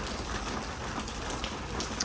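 Heavy rain falling steadily in Vietnam, a dense continuous hiss of drops on surfaces, close and unbroken with no voices.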